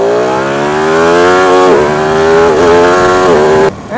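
A Ducati 899 Panigale motorcycle screams up through the revs in first gear at full throttle, a loud rising engine howl held for several seconds before cutting off abruptly near the end.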